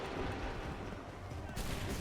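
Musket volley gunfire in Assassin's Creed III comes as a dense burst of overlapping shots, broad and booming, with a brief dip before a second loud crack near the end.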